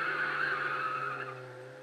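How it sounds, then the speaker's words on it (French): A car skidding under hard braking, a single sustained tire squeal over engine rumble that fades slightly as it ends. "Ah, oula, je pile."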